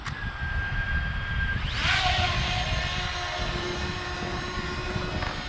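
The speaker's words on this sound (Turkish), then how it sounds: "Şuradan otomatik kalkışa basıyoruz." A Fimi X8 Mini drone taking off automatically, its propellers spinning up into a loud, steady whine that rises at launch and holds close by, with no talking.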